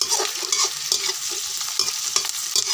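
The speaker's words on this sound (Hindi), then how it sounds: "इसको थोड़ा भून लेते हैं पहले।" Chicken liver fries with onion in a pan for a curry, a close, steady sizzle broken by repeated scrapes and clicks of stirring, with no voices.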